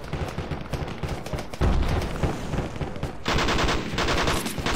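Rapid bursts of automatic gunfire crackle in the military shooter game Project Reality, including fire from a rocket-armed technical truck. The shots come in dense, sustained volleys of varying loudness, with no talk.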